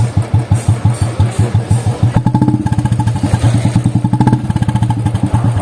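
An HK Indori exhaust silencer on a Royal Enfield Bullet-style motorcycle thumps out the deep, rhythmic beat of an old Bullet, starting at a slow idle and then quickening to a faster, louder burst of close-up thumps.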